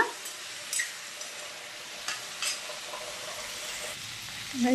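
Potato and ash gourd curry frying in oil in a pan, a soft steady sizzle with occasional scrapes and stirring clatters, close and moderately loud.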